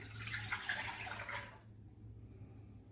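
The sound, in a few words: whole milk poured into small saucepan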